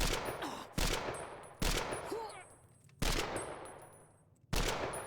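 Gunfire in the video game Fallout: New Vegas, four loud single shots spaced about a second apart, each with a sharp crack and a decaying tail, faint game sounds between them.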